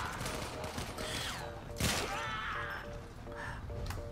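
Rapid gunfire from a primary weapon in Warframe crackles up close in quick volleys, with a sharper impact near the middle and a busy mix of game effects around it.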